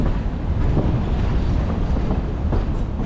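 Steady rumbling roar of rolling heritage railcars on the Tennessee Valley Railroad, with faint rhythmic clatter, continuous and loud throughout, with no voices.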